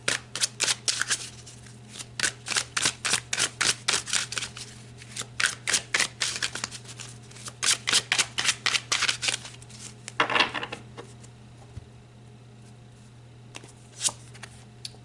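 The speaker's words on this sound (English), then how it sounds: "So let's pull some tarot." A deck of tarot cards is riffled and shuffled at close range in quick bursts of crisp flapping, with short pauses between rounds and a few final taps.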